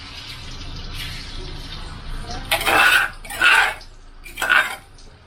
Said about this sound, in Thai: เราไปผัดนะคะ กระทะร้อนแล้ว